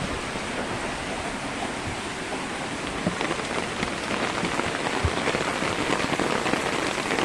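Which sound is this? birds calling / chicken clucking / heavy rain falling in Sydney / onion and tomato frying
heavy rain falling in Sydney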